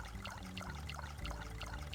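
Dirty water from canteens pouring into planters in the survival game Subsistence, a brief quiet continuous trickle and splash with nobody speaking.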